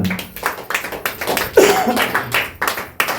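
A church congregation claps in bursts of rapid, uneven applause that rise and fall over a few seconds, loud and close, with brief murmurs from the crowd in between.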